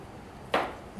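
A Kowaflex film camera's shutter fires once at a half-second setting, giving a single quick mechanical click followed by a faint second snap as it closes, alone in a quiet room.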